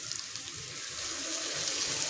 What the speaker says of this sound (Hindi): अब ग्रेवी पकाने के लिए मैं वो जो दाल का पानी था ये वाला मैं यूज़ करूँगी।